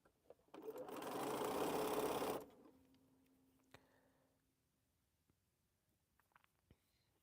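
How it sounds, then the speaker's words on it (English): A sewing machine runs in one fast, steady burst of about two seconds while stitching a quilt block, close and clear, followed by quiet with a few small clicks and taps of fabric handling. "Get this block sewn."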